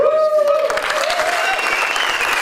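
A convention crowd claps for keynote speaker Thomas Fluharty, a continuous round of applause at moderate level with a person talking over the start.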